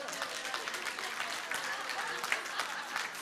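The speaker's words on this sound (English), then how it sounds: "give Lewis a big round of applause." Congregation applauding inside a church during a sermon service, a steady dense wash of many hands clapping at moderate loudness with no talk over it.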